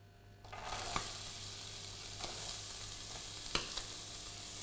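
Vegetables for a cottage pie hit hot oil in a pan and break into a steady, bright sizzle that carries on evenly, with a few sharp crackles and pops over it, no voices.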